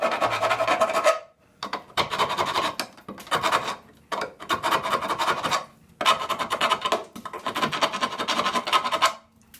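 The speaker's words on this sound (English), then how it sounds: "So I'm just going to take a little file and take the burrs off of it." Hand file scraping burrs off drilled metal on a Datsun camber part, in repeated close, rasping strokes with short gaps between them and no talking.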